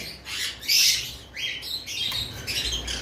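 Hyper conure parrots kept in pairs for sale give sharp, high chirps and squawks in several bursts, fairly close, with no voices.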